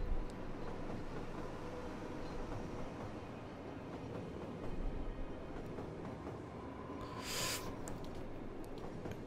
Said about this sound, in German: Dann sollten wir hier auch gleich den Spawn haben von einigen Zügen.